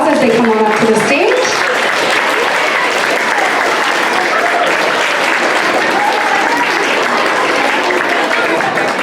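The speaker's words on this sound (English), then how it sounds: "Let's give these boys and girls a big round of applause as they come on up to the stage." Audience applause at a children's stage event as boys and girls walk up, loud sustained clapping filling the room throughout, with a voice briefly heard at the start.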